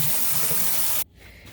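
Tap water runs steadily in a loud, close hiss as a cyanotype print is rinsed, then cuts off abruptly, leaving a quiet room.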